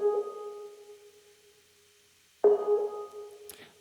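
A Klevgrand ELPIANO organ plugin playing its Scream Lee preset: a sustained reedy tone that fades, then a second note strikes sharply and rings on before fading.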